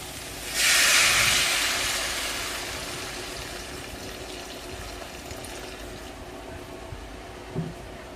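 Water poured into a pot of sautéed papaya and potato, a loud rushing pour at first that eases into a steady hiss of the curry heating and bubbling, with a faint clink near the end.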